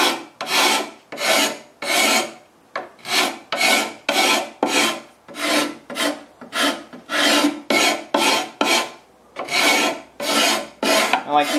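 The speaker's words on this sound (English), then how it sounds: "I'll take a card scraper and start breaking the edge." Card scraper drawn repeatedly along the edge of wood edge banding on a Shaker-style media cabinet, a close, loud rasping scrape in steady strokes of about half a second, roughly twenty passes with brief pauses between them and no talk.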